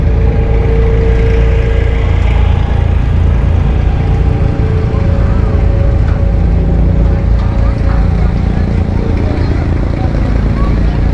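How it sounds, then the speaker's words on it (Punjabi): A boat ride at sunset in Dubai: a loud, constant motor drone with rushing water and wind continues unbroken, close up, throughout. "ਇਹ ਕਿਸ਼ਤੀ ਸਾਨੂੰ ਲੈ ਕੇ ਆਈ ਹੈ"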